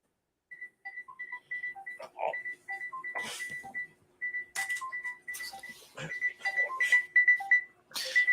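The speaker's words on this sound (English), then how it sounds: "You got an alarm going off?" A phone alarm goes off with a rhythmic run of bright electronic beeps in varying pitches, repeating steadily for several seconds, with a few scuffing noises mixed in.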